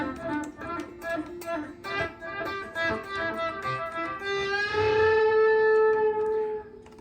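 Electric guitar solo played with an echo effect: quick tapped and picked notes repeating in rhythmic delays, then a sustained bent note ringing out and decaying, loud and alone.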